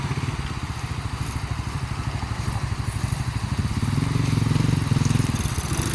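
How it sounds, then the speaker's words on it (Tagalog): A small tricycle motorcycle engine chugs steadily and loudly at close range near a river crossing, its rapid rhythmic putter holding throughout with a slight rise near the end. "Tricycle sa dalawang bangka."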